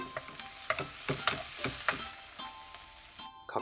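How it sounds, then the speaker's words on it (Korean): Laoganma sauce solids stir-fry in a wok with a bright, close sizzle, broken by quick scraping and tossing strokes in an uneven rhythm, with no voices. "라오감마 소스는 건더기만 넣고 볶아준다"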